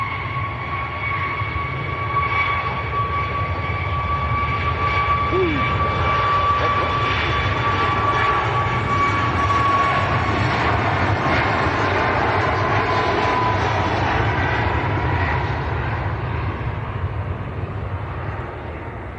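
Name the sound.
Ryanair planes landing and taking off at Manchester Airport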